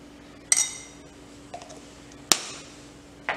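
A metal spoon clinks against a bowl while Eno is added to a batter: three sharp, bright strikes spaced apart, with soft handling noise between them in a quiet kitchen.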